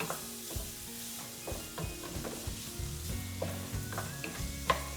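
Chilies frying in a hot pan for Vietnamese caramelized ground turkey, a close, steady sizzle with repeated clinks and scrapes of stirring against the pan.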